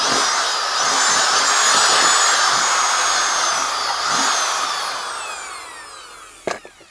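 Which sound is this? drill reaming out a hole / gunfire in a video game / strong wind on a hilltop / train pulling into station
drill reaming out a hole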